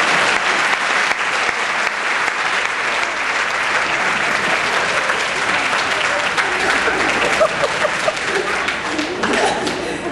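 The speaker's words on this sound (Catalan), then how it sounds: "Un aplaudiment per les cadires." Theatre audience at a comedy show giving sustained loud applause, a dense wash of clapping lasting about ten seconds with scattered voices and chuckles mixed in.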